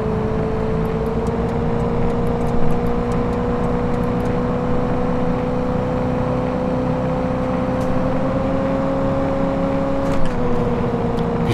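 GMC Vandura G-1500 van engine in City Car Driving while overtaking, a steady loud droning hum whose pitch holds, climbs slightly, then drops near the end, continuous with no talk.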